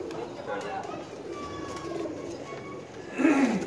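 Pigeons coo softly inside a loft, low murmuring calls running throughout, with a louder, fuller coo rising near the end over faint background noise.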